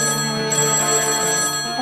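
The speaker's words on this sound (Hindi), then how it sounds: "ये फोन भी तेरी ताईदी की तरफ बजे जा रहा है।" A telephone rings steadily in a home kitchen scene, a sustained electronic bell tone with layered harmonics running through the whole moment, fairly loud and with no one speaking over it.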